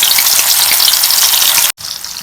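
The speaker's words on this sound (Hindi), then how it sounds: "आधा कप कढ़ाई में ऑयल लिया जो अच्छे से गर्म हो गया। अब हम इसमें मछली डाल करेंगे।" Fish sizzling loudly in hot oil in a kadhai, a dense, close, continuous crackle with a momentary cut near the end before it resumes.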